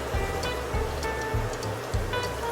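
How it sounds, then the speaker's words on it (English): Heineken beer pours into a cooking pot for Borracho chicken, a gurgling, glugging liquid stream with rhythmic bubbling pulses, close and moderately loud. "some Heineken, my Borracho chicken, guys. So pouring it in"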